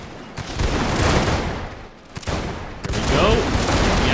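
Rifle volley fire in a Total War Victoria Boxer Rebellion battle, with dense crackling gunfire and booms from infantry filling the whole scene, continuous and loud with a brief lull midway.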